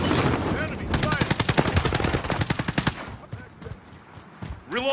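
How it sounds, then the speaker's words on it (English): Enemy machine-gun fire in a video game rattles in long rapid bursts, loud and close, then thins out into scattered shots and background game noise. "Enemy fire"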